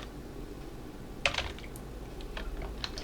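A few quick, faint keystrokes on a computer keyboard click in a short cluster over a quiet room hum, then lighter taps follow.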